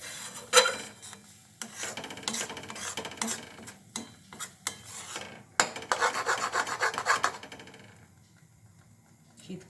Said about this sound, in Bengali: এটা আমি এখন নাড়তে থাকবো, নেড়ে এটাকে শুকনো করবো।